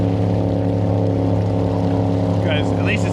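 An ARRMA Granite RC truck floats across a lake, its electric motor whining loudly and steadily close by with a constant droning buzz. Brief higher chirps and a voice come near the end.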